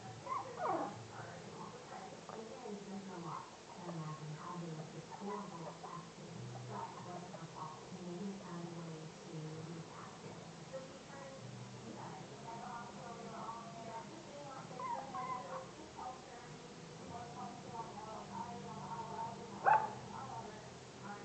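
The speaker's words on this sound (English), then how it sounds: "She barks and makes herself go backwards." A three-week-old Maltese/Shih Tzu puppy gives soft, high yips and whimpers against a steady faint background, with a sharper bark near the end.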